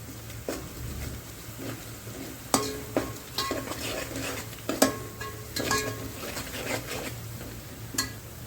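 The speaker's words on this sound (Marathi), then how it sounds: "तर याच तेलामध्ये हे एक अर्धा चमचा जे तीळ आहे ते चांगले परतून घ्यायचे" Half a spoon of sesame seeds roasting in hot oil for a traditional Kolhapur-style bhogi vegetable dish, with a low steady sizzle under repeated sharp clinks and scrapes of a spoon stirring against the pan.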